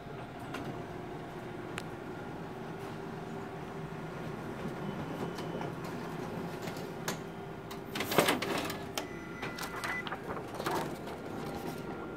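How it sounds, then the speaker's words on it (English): A Konica Minolta Bizhub C554e office copier runs while printing an internal demo page, giving a steady mechanical whir and rumble with a few clacks and rattles of the paper path midway and no talking. "Gonna go ahead and make an internal test copy. I'll be printing out an internal demo page."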